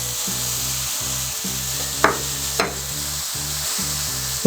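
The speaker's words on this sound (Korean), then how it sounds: "어느 정도 채소가 숨이 좀 죽을 때까지 볶아주시고요." Vegetables for pad thai sizzle and hiss steadily in a hot pan while being stir-fried, with rhythmic scraping strokes of a utensil every half second or so and two sharper clacks against the pan.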